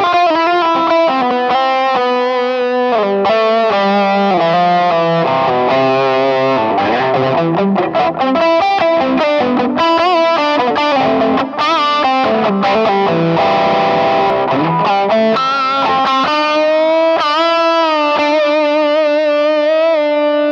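Sustained distorted electric guitar notes through a Relicbox Range Master clone pedal ring out with heavy reverb and echoing delay trails, melodic lines blooming and washing together, loud and continuous.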